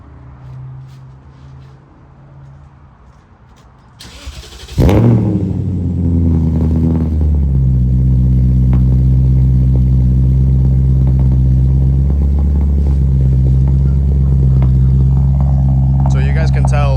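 A BMW E39 540i V8 fires up after quiet idle talk, then settles into a loud, steady, deep exhaust burble through a resonator, close by and sustained, with a clattery start and small rev swells.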